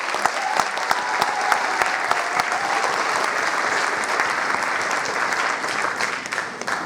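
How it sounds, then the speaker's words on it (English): An audience at a 2015 San Diego Summer Music Institute string orchestra concert claps steadily, a dense, even wash of applause that holds at the same level throughout, with no voices on top. "Give them a round of applause."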